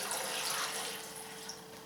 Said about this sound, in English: Just going to pour that right in.